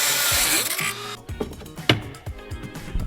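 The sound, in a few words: Dremel rotary tool cutting metal glove box framework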